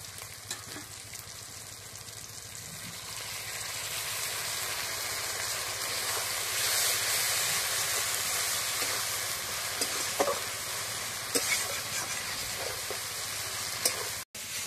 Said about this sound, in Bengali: ভালো মতো মশলা কষানো হয়ে গেছে